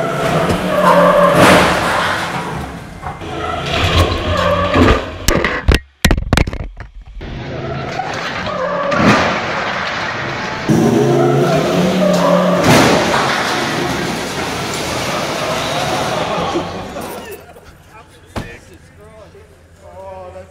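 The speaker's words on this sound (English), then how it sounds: "We're going to pull this Besser block wall out." A Toyota LandCruiser 79 Patriot Camper Supertourer rigged with TJM recovery gear pulls down a Besser block wall. The engine revs, blocks crash and thud heavily, and debris rumbles under ongoing talk.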